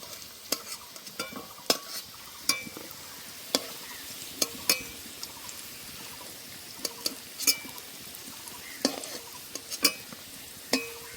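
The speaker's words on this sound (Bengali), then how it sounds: "আলুগুলো লাল লাল করে ভেজে নিয়েছি, আর সেদ্ধও অনেকটা হয়ে গেছে।" Potatoes fry in hot oil in a pan, a soft steady sizzle broken by sharp clicks and scrapes of a utensil stirring and lifting the browned pieces out, close and without voices.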